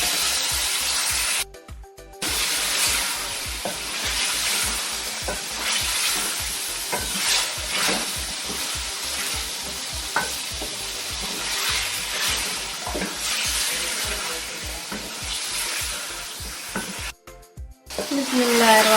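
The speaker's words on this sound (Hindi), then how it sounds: "आलूओं को भी डाला तो 1 मिनट हो चुका है इसी तरह फ्राई करते हुए" Chicken and potatoes fry in a pan for a potato, capsicum and chicken curry, a continuous loud sizzle broken by repeated scraping stirs close up, with no one speaking.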